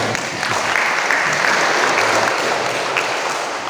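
Steady, dense applause from a large crowd at an education office ceremony, loud and continuous for a few seconds with no pauses.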